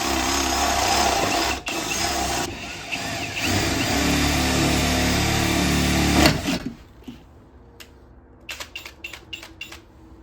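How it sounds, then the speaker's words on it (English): A power drill whines steadily for about six seconds as it drills out the rivets of a Mercedes W220 rear window regulator, loud and close, then stops, leaving scattered clicks and handling noise. "right now we're going to drill out these rivets"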